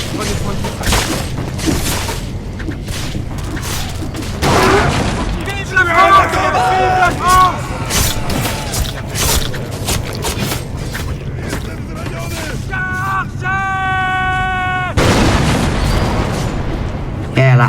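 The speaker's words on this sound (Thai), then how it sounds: "งั้นเดี๋ยวเราปาระเบิดไปช่วยก่อน" Repeated booming grenade explosions in a zombie video game, loud bursts scattered among gunfire and chaotic game effects, with excited talk over them.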